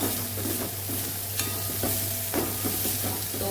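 Spice masala with dried garlic frying in hot oil, a continuous sizzle with repeated scraping stirs of a spoon in the pan, close and moderately quiet.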